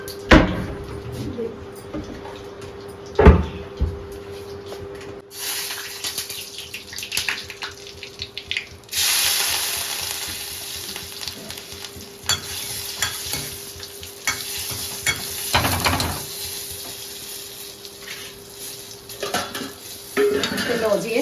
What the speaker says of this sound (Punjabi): ਹੁਣ ਆਪਾਂ ਲਾਵਾਂਗੇ ਵਧੀਆ ਜਿਹਾ ਤੜਕਾ ਦੇਸੀ ਘਿਓ ਦਾ